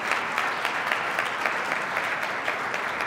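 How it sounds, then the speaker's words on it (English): An audience at the TAMEST 2012 annual conference applauds after a hard-fought contest in a Reasoning Mind demonstration, a brief, even burst of many hands clapping at moderate loudness without talk. "Thank you for your round of applause for a hard-fought match"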